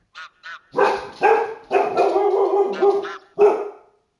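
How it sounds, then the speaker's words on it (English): Dog barking repeatedly during a whitetail hunt in theHunter: Call of the Wild, a few short yips followed by a long run of loud, close, agitated barks and a final bark, heard on its own. "My dog's going berserk."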